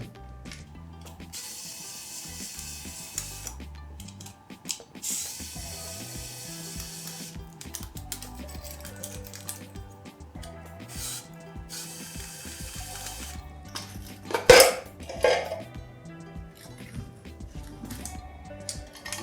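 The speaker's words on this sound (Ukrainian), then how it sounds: "Ось так просто вона розбирається." Plastic casing of a Vesna-NSh mine radio station being taken apart by hand, with scattered close clicks, ratcheting snaps and handling knocks, plus a sharper burst of cracking near the end.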